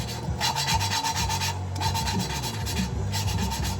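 Engine valves are lapped with gritty abrasive grinding compound on a rat bike, a close, rhythmic scraping rub repeating in quick back-and-forth strokes, several bursts in a row with short pauses.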